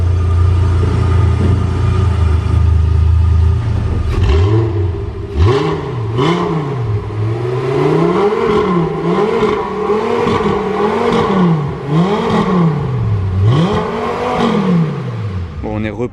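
A car engine in Monaco revs up and down in repeated rising and falling swells as the car is eased back into its parking spot, loud and close after an initial low idle rumble.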